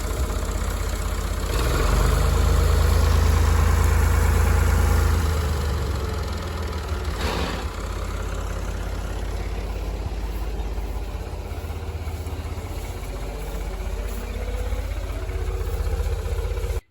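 A John Deere 2640 tractor engine idles steadily close by, with a deep, even rumble that swells slightly early on and then settles into a constant drone. No one speaks.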